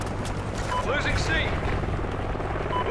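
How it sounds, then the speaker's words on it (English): A video-game helicopter drones steadily with a low rotor rumble under a busy battle soundscape, with radio-style voice callouts and scattered effects layered on top. "Friendly helo pilot active."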